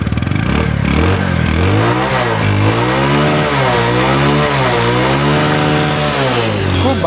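Bajaj Platina 100cc motorcycle engine revved repeatedly up and down, loud and close, with rising and falling whines in a continuous run of throttle blips.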